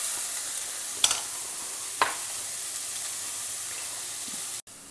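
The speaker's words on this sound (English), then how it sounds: "Stir the onions till they become" Finely chopped onions frying in a pan while being stirred, giving a constant soft sizzle with two brief scraping stirs, ending in an abrupt cut.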